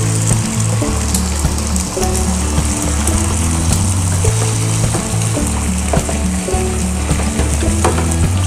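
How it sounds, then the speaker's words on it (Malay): Loud, steady sizzling and crackling of an egg frying in hot oil for nasi goreng pattaya, close up and continuous, with occasional sharper pops and no voices. "minyak dah panas, kita masukkan telur."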